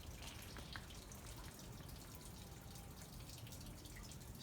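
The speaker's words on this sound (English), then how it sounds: "you can hear the water" Water dripping at Calke Abbey, a soft, steady patter of drips and trickling under a continuous hiss of ambient noise, fairly faint, with no voices.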